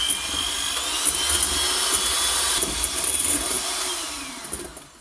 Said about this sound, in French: Et là je vais fouetter jusqu'à faire monter donc cet appareil